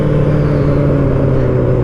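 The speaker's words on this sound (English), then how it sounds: "Revs, I could give you revs" A car engine holds a loud, steady, low rumbling drone close by, with no clear rise in pitch across the short stretch.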